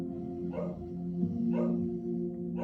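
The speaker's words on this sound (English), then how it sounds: "If you hear my dog barking, pretend it's somebody else's dog that's walking around." A dog gives a few short barks spaced apart, heard over a steady low hum that fills the background.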